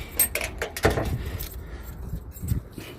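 A set of keys jangles in short, close metallic bursts, a few quick rattles spread across a quiet indoor moment with light handling noise.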